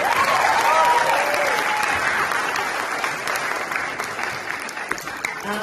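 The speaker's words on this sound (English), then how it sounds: "Can we give them a round of applause?" A full audience at a school winter concert gives sustained, dense applause that holds steady for several seconds, with faint voices mixed into the clapping.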